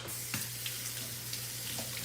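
Water runs from a kitchen tap while something is rinsed beneath it, a steady broadband hiss of flowing water with faint splashes, close and continuous for a couple of seconds, no talking.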